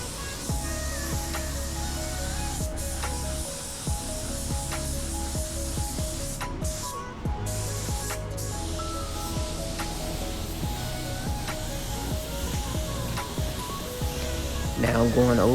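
Spray gun laying a second coat of clear over a red-painted Honda Civic bumper: a steady, continuous hiss of atomized paint runs the whole time, with a person speaking over it.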